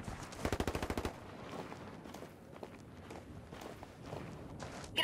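Rapid burst of gunfire in the tactical shooter video game Ghost Recon Wildlands, a loud rattling volley of about ten shots at the start, followed by quieter scattered in-game sounds and movement.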